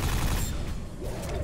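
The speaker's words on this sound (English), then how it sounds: "Let's try the nail gun" Nail gun in the Quake 4 shooter firing as a continuous loud burst of rapid mechanical shots, dense and unbroken for a moment, with game sounds underneath.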